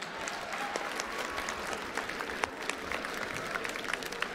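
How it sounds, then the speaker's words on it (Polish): An audience applauds a camera operator at a live event, sustained mid-level clapping with scattered sharper individual claps and a faint crowd murmur underneath. "Brawa dla operatora kamery!"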